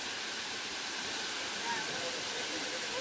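The tall Hum Hum Waterfall roars as a constant, broad rush of falling water, steady and fairly distant, with no other clear sounds standing out.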